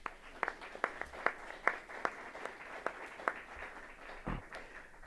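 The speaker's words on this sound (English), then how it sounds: "Would you please give him a round of applause?" Sparse individual claps from a small group at a committee hearing on college campus safety, distinct uneven slaps spaced through five seconds, fairly quiet in a room.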